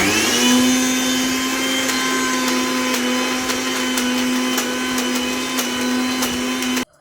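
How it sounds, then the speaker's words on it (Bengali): An electric mixer grinder grinds chopped banana stem, a loud, steady motor whine running for about seven seconds before cutting off abruptly at the end, with no voices. "এখন আবার কলার থোরগুলো মেরে নেব মানে পিষে নিই"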